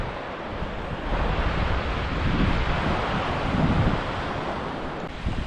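Waves breaking on an Albanian beach at night, a steady broadband wash of surf rising and falling in slow swells, mixed with gusty wind buffeting the microphone, with no voices.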